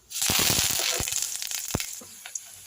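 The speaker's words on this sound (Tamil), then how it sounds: "இப்போ பூண்டையும் கருவேப்பிலையும் போட்டுக்கலாம்" Garlic and curry leaves dropped into hot oil with popped mustard seeds burst into a loud, close sizzle and crackle that fades over a couple of seconds, with a few sharp pops and a clink.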